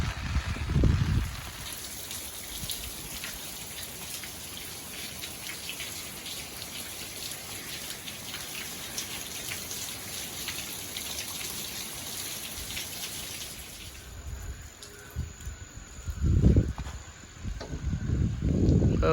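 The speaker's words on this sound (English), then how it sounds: "it is still raining, but the sun is coming out some" Rain from Tropical Storm Elsa falls steadily as a dense, even hiss of drops on surfaces, holding through most of the stretch before thinning, with a few low thumps near the end.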